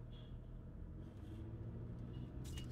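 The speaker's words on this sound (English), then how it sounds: "Car totally stopped in the middle of the road." A car sits stopped in the middle of the road, its engine idling in a low, steady rumble, faint and distant, with a brief hiss near the end.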